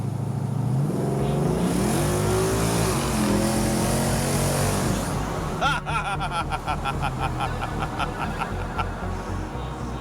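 A 1993 Ford Mustang 5.0 driven fast, its engine roaring loud and steady with rising and falling revs, then rougher throaty pulses and wind as it keeps accelerating.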